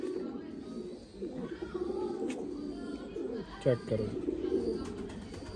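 Kasuri dub pigeons coo softly nearby in a low, rolling murmur, with a few sharper flutters and a person speaking over the birds.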